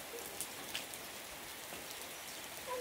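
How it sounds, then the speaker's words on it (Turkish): Light rain falls outdoors, a faint, even patter and hiss with no voices, steady and quiet throughout. "Hava açılacak gibi duruyor, yağacak gibi duruyor. En sonunda yağdı."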